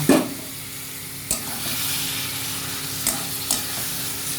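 Marinated chicken meat hitting a pan for a Bengali chicken curry, giving a sizzle with a few clattering stirs spread across the clip and no one talking.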